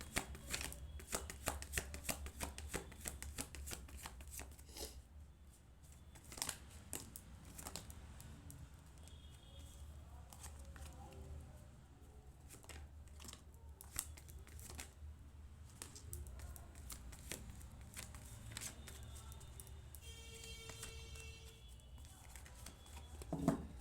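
Tarot cards are shuffled by hand for a reading, giving quick riffling and patting bursts that come in uneven runs, close and soft, with brief pauses between handfuls and no talking.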